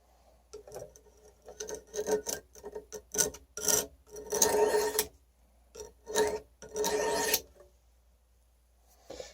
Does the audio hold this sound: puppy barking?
no